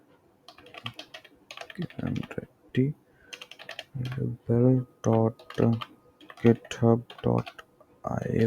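Keys clicking on a computer keyboard as a URL is typed on a PC, a quick run of taps mixed in beneath someone talking steadily in Hindi.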